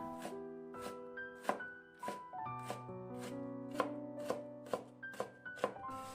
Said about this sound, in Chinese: 先切成薄片，再改刀切成细丝， 最后切成胡萝卜丁